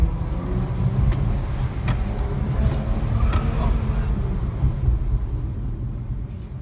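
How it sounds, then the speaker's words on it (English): A Jaguar XE race car's engine pulls under throttle on track, a steady, fairly loud rumbling drone heard from inside with no talk over it. "As I get on the throttle, we're right there."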